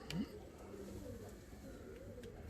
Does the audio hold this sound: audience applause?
no